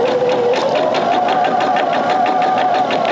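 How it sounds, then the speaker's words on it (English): A sewing machine stitches a mitered corner along a marked line, its needle pounding in a fast, even rhythm over a steady motor whine, close and loud with no talk. "Put my foot down and stitch on the line."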